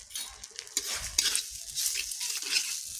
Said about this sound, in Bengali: যে কিশমিশ দিয়ে দিলাম, এটাকে নাড়বো একটু